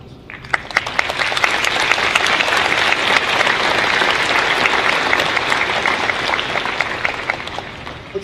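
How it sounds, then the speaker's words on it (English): Sustained applause from a large commencement crowd honoring families, dense, steady clapping that rises quickly and holds at full strength throughout, with a few sharper claps standing out near the front. "Let's give those folks a big round of applause."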